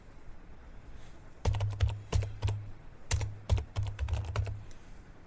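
Computer keyboard typing of a command on a Windows PC: short bursts of quick, crisp keystrokes, close and clear, with brief pauses between groups and no voice.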